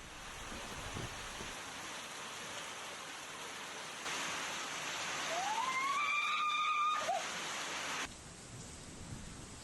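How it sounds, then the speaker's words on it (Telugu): Heavy, steady rain falls over villages in Nirmal district, a constant hiss that swells louder in the middle as a rising tonal whine passes through, then eases slightly at the end. "ముతోల్ నియోజకవర్గంలోని బైంసా, కుబీరు, కుంటాల, లోకేశ్వరం, తానూర్ మండలాల్లోని గ్రామాల్లో ఏకదాటిగా వానలు పడుతున్నాయి."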